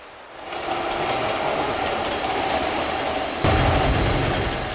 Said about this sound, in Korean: 기차 지나가면 좋아요.